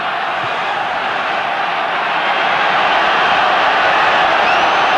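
A capacity crowd of 40,000 at a rugby Test in Sydney keeps up a continuous, dense roar that swells a little louder toward the end.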